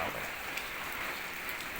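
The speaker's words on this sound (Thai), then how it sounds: "วันที่ยี่สิบหกฝนนี่ตกมาสองยก" Steady rain falls in a dense, even hiss that stays constant throughout, with no voices present.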